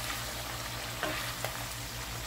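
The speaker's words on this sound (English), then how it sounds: "So I'm just going to be cooking this in the oil just to" Meat browns in hot oil for a Ghanaian keto spinach stew, giving a steady, even sizzle throughout with no voices.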